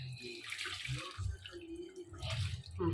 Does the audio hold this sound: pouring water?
yes